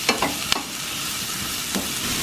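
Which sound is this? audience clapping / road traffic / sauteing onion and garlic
sauteing onion and garlic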